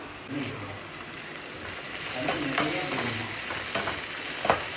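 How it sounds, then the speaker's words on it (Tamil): Steady sizzling and frying of onions and tomatoes sautéing in a pan, with occasional stirring scrapes, close by and continuous. "வெங்காயம் போட்டு நல்லா வதக்கிட்டு அதுக்கடுத்து தக்காளி"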